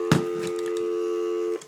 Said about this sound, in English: so that's the phone